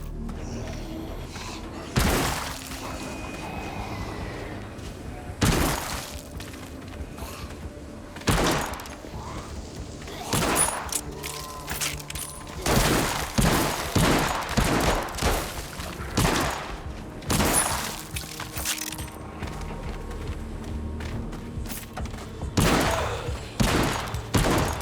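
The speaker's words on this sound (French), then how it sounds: "Fusil d'assaut." Assault rifle gunfire in the zombie shooter video game Arizona Sunshine, loud repeated bursts and single sharp shots at irregular intervals over a continuous background of game ambience, with no talking.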